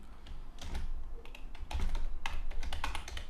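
Typing on a computer keyboard, quick irregular bursts of close, soft key clicks with short pauses between runs, no talking.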